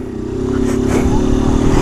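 A motorcycle fitted with a loud aftermarket exhaust idles and revs close by, its deep burbling drone swelling steadily louder.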